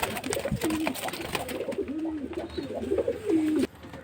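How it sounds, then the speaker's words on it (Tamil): Pigeons with short beaks and large head crests cooing inside a cage, a steady run of soft, rolling coos repeating close by, alone without talk. "நல்லா ஷார்ட் பீக்கில் பெரிய தலைக்கட்டு போட்டுட்ருக்கும் புறா"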